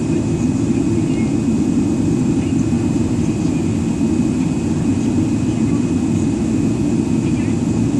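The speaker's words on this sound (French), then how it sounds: "on voit au fond de la piste l'avion qui est en train de décoller" An airliner takes off on the runway at busy Dubai airport, its jet engines producing a steady, loud roar that holds without a break from start to finish.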